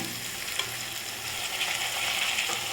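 Onions and tomatoes sautéing in a pan for a sour yam curry, a steady close sizzle with occasional stirring scrapes and soft clicks, no voices.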